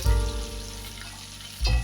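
Pork sizzles steadily in a hot skillet, a dense crackling hiss with a louder burst near the end, no voices.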